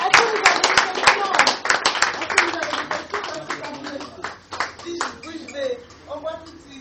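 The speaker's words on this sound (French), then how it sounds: "Sous vos applaudissements." Applause at a painters' art exhibition opening breaks out as a scattered round of clapping from a small audience, sharp and close at first, then thinning out as voices talk over it.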